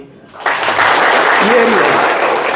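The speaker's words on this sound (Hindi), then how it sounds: "अब बजाओ ताली।" Clapping from a group at a meditation session, bursting in suddenly after a quiet moment and holding as a dense, loud, steady patter of many hands, with a voice briefly heard through it.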